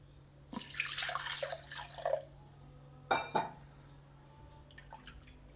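Water pours into a mixer jar of grated coconut for a coconut jackfruit halwa, making soft splashing gurgles in two short bursts with quiet gaps between them.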